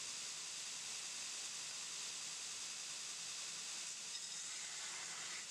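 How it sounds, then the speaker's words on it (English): Rough grinding a bevel on a stainless steel chef knife blade, a steady, loud broadband hiss of abrasive against metal that holds unbroken throughout with no voices. "And this is the rough grinding."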